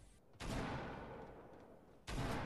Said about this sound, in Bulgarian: Чувам изстрели.